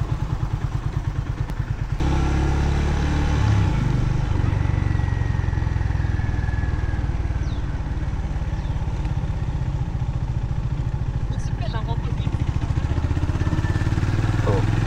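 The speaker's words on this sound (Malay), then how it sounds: "ini dia motor. So kita dengar sikit bunyi dia macam mana" A Honda CB350 RS motorcycle engine rumbles loudly and steadily up close, with a brief change in tone early on and faint clatter over the constant throb.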